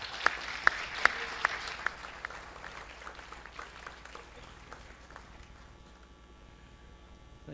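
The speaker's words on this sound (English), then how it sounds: "So, big round of applause," Audience applause at a hackathon awards ceremony for the cloud category winner, a burst of clapping with a few sharp near claps at first, then tapering off to a faint background.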